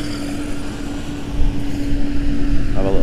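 A Tamiya TD2 Stealth Fighter RC car on its first run buzzes past at speed, a rising whine and rush of motor noise over a steady background hum, growing louder toward the end.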